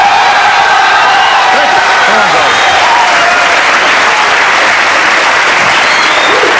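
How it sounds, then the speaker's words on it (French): A studio audience on a French television talk show gives a standing ovation, loud sustained applause mixed with cheering and whoops that stays constant throughout. "Vous pouvez l'applaudir debout"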